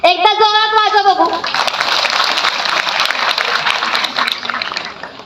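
Audience at a Marathi public event bursts into loud, sustained applause that swells after a brief harmonic voice at the start and continues as dense clapping throughout.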